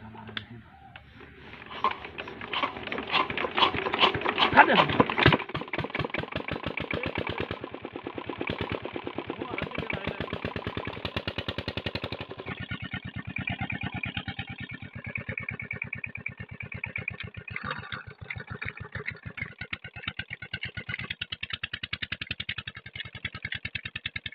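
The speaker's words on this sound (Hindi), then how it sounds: "अभी पीटर इंजन स्टार्ट करने लगे हैं" A Petter engine being started and then left running. A rattling, clattering start builds to a loud burst and then settles into a steady rhythmic idling chug that continues to the end.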